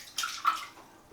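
Hot water from a tap splashes in short bursts over a shaving razor, a close, gurgling run of water with brief surges and a sudden loud splash at the end, with no talking.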